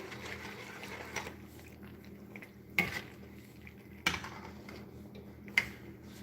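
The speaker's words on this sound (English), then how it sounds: "And then I'm going to stir it up, and then I'm going to add some of the spices." A spoon stirring coconut milk curry in a pot gives soft scraping swirls punctuated by three sharp clinks of utensil against the pot rim, fairly quiet and close, with no voices.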